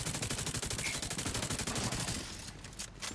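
An automated turret in The Division 2 firing a rapid, continuous burst of gunfire, loud and close for about two seconds before tapering into scattered shots and background noise.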